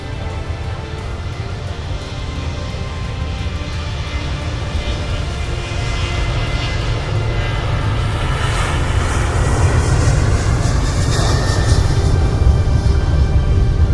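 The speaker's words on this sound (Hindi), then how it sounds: "विमान अपनी तेजी से रफ्तार पकड़ता है और विमान आसमान की ओर" An Air India airliner, flight AI-171, roars steadily down the runway on its takeoff roll out of Ahmedabad. The heavy broadband engine rumble builds slowly and continuously for the whole stretch, with no voices.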